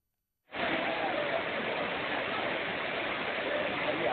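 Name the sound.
Courtallam waterfall with tourists bathing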